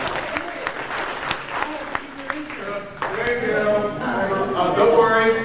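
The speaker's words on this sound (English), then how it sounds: "Let's give Ian a round of applause." Applause breaks out in a comedy club audience, heard under a speaker's voice and growing fuller and louder toward the end.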